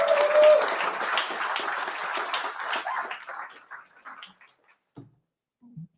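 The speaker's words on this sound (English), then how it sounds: "Give yourself a round of applause for making that great decision." Applause from the audience at a live team training session on goal setting, a dense burst of clapping that holds steady for a few seconds, then thins out and stops, with a few faint sounds after it.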